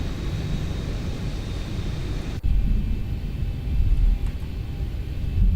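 Steady low rumble of a SpiceJet Boeing 737-800 taxiing toward the runway at Ahmedabad in the X-Plane 12 flight simulator, a continuous engine drone with a brief dip partway through, then carrying on alone.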